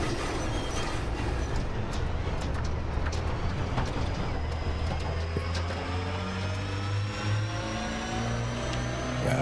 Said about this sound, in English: that's a good example of the road rumble